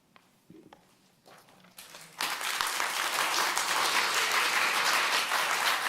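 Applause breaks out at a city council meeting in Alpharetta, starting after a few scattered sounds and then swelling into steady, full clapping from the audience that carries to the end.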